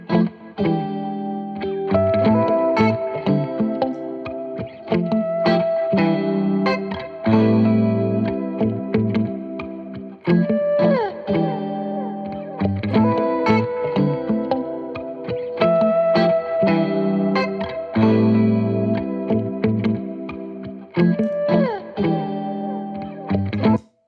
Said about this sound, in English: I'm going to actually use my volume pedal to get some swells.